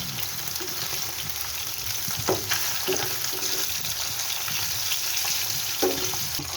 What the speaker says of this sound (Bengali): বেশি ফ্রাই করে নেব না মিডিয়াম ফ্রাই করে নেব